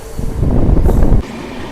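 A Santragachi to Bengaluru AC special train rumbles past at close range, a loud, steady rolling roar of wagons that drops off abruptly near the end.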